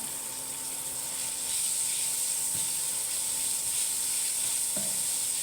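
Onion frying in oil with urad dal, a constant hissing sizzle heard up close, with a few faint clicks and pan knocks but no stirring voices.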